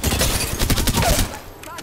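Gunfire from Apex Legends: a quick run of close, sharp shots in rapid succession that fades out near the end.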